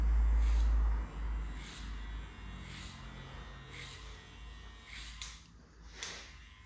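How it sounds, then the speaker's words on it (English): Hair clipper trimming hair during detailing work with a comb, a steady close electric buzz with a louder burst at the start and soft intermittent cutting passes, no talking. "So for detailing, I'm going to use my clipper and my comb."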